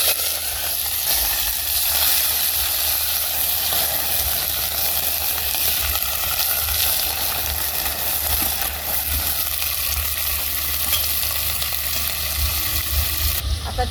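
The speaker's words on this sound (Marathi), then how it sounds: "तेल गरम झालंय, तर आपण पातेल्यामध्ये चिकन टाकून देऊ" Chicken sizzles and fries in hot oil in a pot over a village wood-fired stove, a steady dense crackling hiss that runs loud and continuous throughout.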